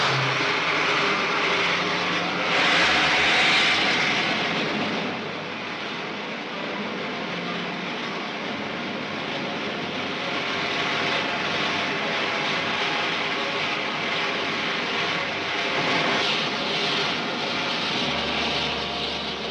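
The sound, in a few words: rocket ship taking off in a 1953 film serial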